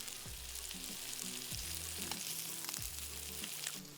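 Fat from lamb chops sizzles steadily in a hot pan close by, with soft bumps and scrapes recurring every second or so.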